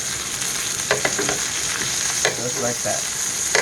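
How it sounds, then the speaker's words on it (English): Butter sizzles loudly and without a break in a lipped skillet under a Wagyu steak, with a few spoon scrapes as the butter is basted over the meat. Someone speaks briefly over the frying. "The lip on the skillet doesn't let the butter fly out as much as a regular skillet would."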